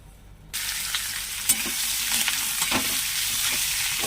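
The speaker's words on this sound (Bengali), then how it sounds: "ভালো করে ভেজে আনতে হবে" Half-boiled young jackfruit hitting a hot wok, the sizzle bursting in loudly after a quiet start and holding steady, with a few sharp stirring scrapes and clinks of the utensil.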